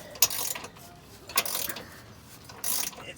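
A hand tool is cranked to press a bushing into a 2004 Nissan Murano, giving three short, close ratcheting bursts spaced about a second apart with quiet pauses between them.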